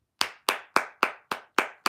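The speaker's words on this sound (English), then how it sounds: "Clap it up for Kobe." Seven sharp, evenly spaced hand claps in a slow steady rhythm, each crisp and close with a short decay, in an otherwise quiet setting.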